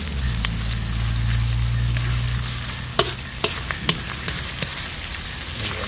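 Corned beef sizzles and fries in a pot, a dense steady crackle with a spoon stirring and tapping against the pot several times toward the end.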